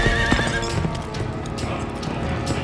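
A horse gallops with rapid clip-clop hoofbeats, and a whinny sounds near the start. The hooves stay close and fairly loud, with no speech over them.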